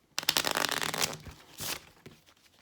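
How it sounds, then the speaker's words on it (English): A deck of playing cards is riffle shuffled close up, a dense crisp flurry of card flicks followed by a shorter second burst and a faint final tap. "Do a riffle shuffle there,"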